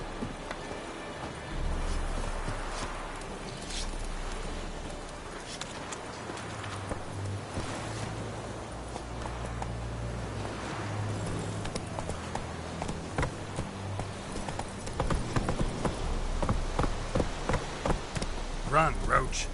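Roach, a horse in a video game, gallops with a continuous rapid clip-clop of hooves at moderate distance, rising toward the end over a low droning musical bed and light rain-like patter.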